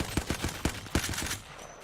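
A rifle much like the R-301 fires rapid automatic bursts in a video game, six or seven sharp close shots in quick rhythm, then a fading tail.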